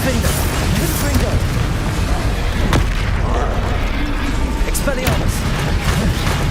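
Explosive Confringo spell effects in the Hogwarts Legacy video game, a dense run of booming blasts and bursts over a constant loud rumble, with a voice talking over the action.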